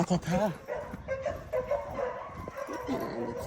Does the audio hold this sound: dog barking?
yes